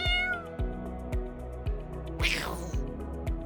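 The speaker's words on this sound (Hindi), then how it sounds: "तभी एक बिल्ली पास से गुजरी और जोर से म्याऊं किया।" A cat passes close by and lets out a loud, drawn-out meow over a steady rhythmic musical background.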